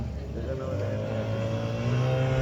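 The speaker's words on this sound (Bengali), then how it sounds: "এই যে স্পিড বোট, আমরা এরকম স্পিড বোটে আসলাম" A speedboat's engine drones steadily at close range, a loud, rough motor hum with a rising tone, over rushing wind and water.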